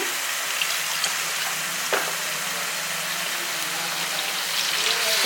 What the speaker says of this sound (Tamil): மிக்சி ஜாரில் கொஞ்சோண்டு தண்ணி ஊற்றி